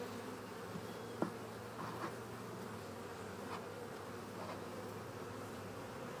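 Honey bees buzz in a continuous, even drone around a hive holding new queens, close and steady, with a few faint knocks.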